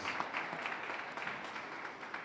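A crowd claps in a steady round of applause at a 2017 neighborhood awards ceremony, moderately distant and continuous throughout.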